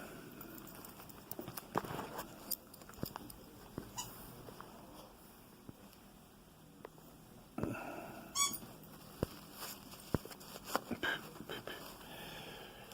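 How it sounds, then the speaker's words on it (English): A small squeaky hamburger dog toy gives scattered sharp squeaks at irregular intervals, with soft footsteps and light handling noise in a quiet room. "There was a little squeaky hamburger."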